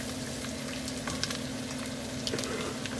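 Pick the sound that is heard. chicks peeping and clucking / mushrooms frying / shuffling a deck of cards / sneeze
mushrooms frying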